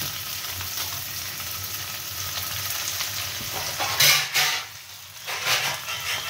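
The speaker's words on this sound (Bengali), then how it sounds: "আমাদের একটু পেঁয়াজ ভাজতে হবে, ও চটপট চটপট করে দেবে।" Onions fry in hot oil in a home Bengali kitchen with a steady sizzle, then a few louder bursts of stirring and scraping in the pan near the end.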